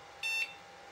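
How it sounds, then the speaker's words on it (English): An early 2000s beige desktop PC gives a single short, thin beep during boot as a keyboard is connected, faint against a quiet background hum. "Nice little beep."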